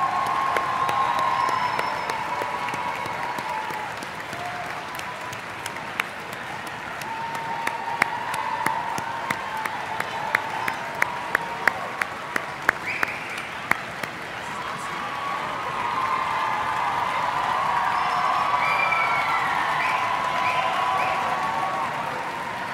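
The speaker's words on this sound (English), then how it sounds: "Perfect. Big round of applause." A large audience applauds at a high school band and orchestra music festival concert, sustained clapping with scattered cheers and whoops, sharper individual claps standing out midway before the applause swells again.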